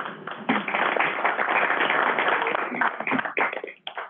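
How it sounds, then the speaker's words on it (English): Applause for a guest speaker at a board meeting, a dense stretch of clapping from a modest group in a room, thinning into scattered claps toward the end. "And not every guest speaker gets applause"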